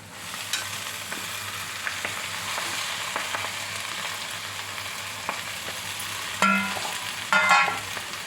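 Gunugu greens sizzle and crackle in a hot pan of tempering with turmeric, with stirring scrapes and occasional clinks of a utensil over a steady frying hiss.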